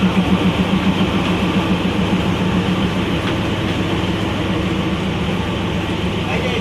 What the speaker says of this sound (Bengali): আর পেছনে আসে Darjeeling Himalayan railway toy train মাত্র ছাড়লো